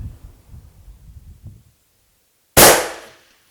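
A single sharp rifle shot from a 7mm Backcountry rifle cracks out loud and close at long range in 12 mph wind, its report decaying over half a second after a stretch of low rumbling background.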